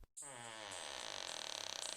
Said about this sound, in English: The box creaked open,